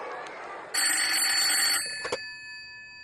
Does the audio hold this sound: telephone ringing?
yes